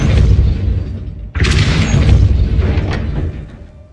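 A Depulso spell goes off in Hogwarts Legacy with a loud, rumbling boom that cuts out briefly and then bursts back in a second heavy blast, fading slowly over several seconds.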